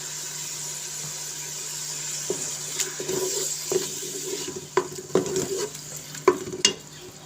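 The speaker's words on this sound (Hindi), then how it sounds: "2 मिनट मुझे हो चुके हैं अदरक और लहसुन और सब्ज़ मिर्च को इसमें भुनाई करते" Ginger, garlic and green chili fry with chopped tomato in a pot for masoor dal, giving a soft sizzle broken by several close stirring scrapes and clatters that grow louder toward the end.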